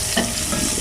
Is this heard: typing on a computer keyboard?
no